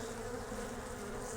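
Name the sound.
honeybees buzzing in a beehive with drone-laying queen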